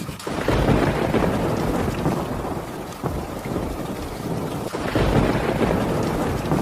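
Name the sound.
rain and thunder effect in a cartoon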